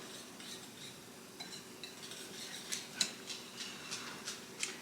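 A spoon stirs a sour cream mixture with mushrooms and onions in a bowl, making soft, close clinks and scrapes that come irregularly and grow a little more frequent toward the end.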